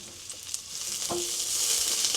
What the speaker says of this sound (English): I've given my mushrooms a quick stir